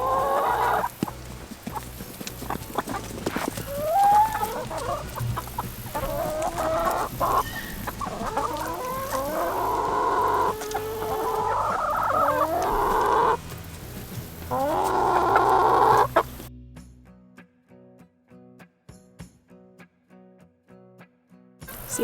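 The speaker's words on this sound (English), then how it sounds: "What are you girls, chicken?" Backyard chickens clucking in a fall garden in Minnesota, a busy run of close, repeated clucks and squawking calls over about sixteen seconds before dropping to near quiet.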